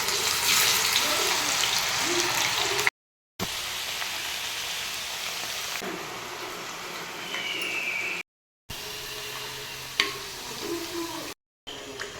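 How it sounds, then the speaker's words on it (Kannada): Raw banana slices frying in hot oil for homemade chips, giving a steady soft sizzle and bubbling hiss with occasional stirring clinks, fairly quiet and broken by brief gaps of silence. "ಎಣ್ಣೆ ಬಿಸಿ ಆಯಿತು ಇವಾಗ ಎಣ್ಣೆಯಲ್ಲಿ ಮುಳುಗುವಷ್ಟು ಬಾಳೆಕಾಯಿನ ಇಲ್ಲಿ ಹಾಕ್ತಾ ಇದ್ದೀನಿ"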